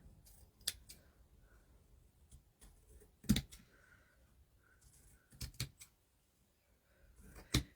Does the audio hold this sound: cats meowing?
no